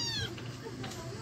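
A hungry stray cat wandering into a house gives a short, fairly faint meow near the start, followed by quiet indoor sounds, with a person speaking nearby.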